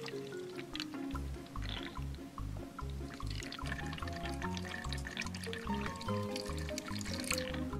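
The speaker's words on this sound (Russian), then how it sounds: "Нальем в машинку воды." Water is poured into a small toy washing machine, a steady liquid trickle running alongside faint background music and occasional light drips.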